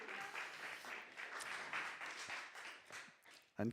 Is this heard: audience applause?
yes